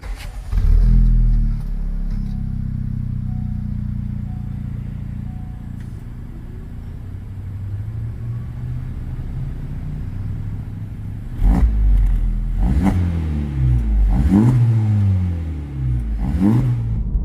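A Honda Civic Type R (FL5) engine with a new RV6 front pipe drones steadily while driving, then revs hard several times near the end, rising and falling in pitch with a throaty exhaust note.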